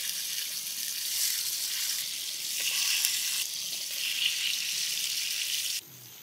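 Fish pieces frying in a pan give a steady, moderately loud sizzle with a broad hiss, alone and unbroken for several seconds until it drops off abruptly near the end.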